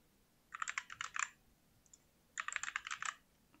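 Quiet typing on a computer keyboard while entering a network name and password, two short bursts of rapid key clicks separated by a pause, alone without talk.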